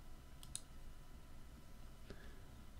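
Computer mouse clicks during video editing in Sony Vegas Studio Platinum, a quick double click followed later by a single faint click, close and quiet against low room hiss.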